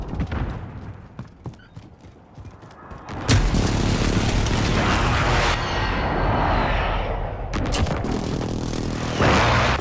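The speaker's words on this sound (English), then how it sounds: "Enemy precision airstrike inbound." Explosions from a precision airstrike in the Call of Duty video game, a run of heavy booms and rumbling blasts following some scattered gunfire, growing loud and sustained through the second half.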